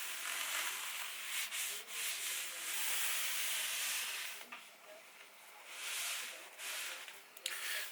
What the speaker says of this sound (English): Now we need to try to smooth out the nylon as best we can.